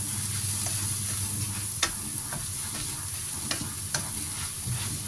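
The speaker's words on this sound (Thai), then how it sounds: "ใส่ผักลงไปได้เลยนะคะ ผักเลยจ้า ง่ายๆแล้วก็ผัดก๋วยเตี๋ยวหลอด" Rice noodle rolls and vegetables stir-frying in a hot pan, a loud, close, continuous sizzle broken by sharp clicks of a spatula scraping and tossing at irregular intervals.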